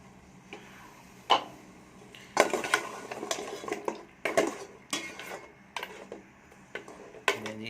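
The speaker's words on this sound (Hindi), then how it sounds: "अब इसमें ऑयल डाल के इसकी अच्छी तरह हम भुनाई करेंगे" Goat trotters frying in oil in a pot while being stirred, with repeated clanks and scrapes of a spoon against the metal at an irregular pace, fairly close and with no talking.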